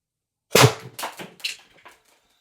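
A Beeman BP50 air pistol, tuned to 800 psi with an HPA expansion mod, fires an 8.3 gram steel ball bearing: one sharp, loud crack followed by a few quick fading metallic knocks as the ball strikes and bounces.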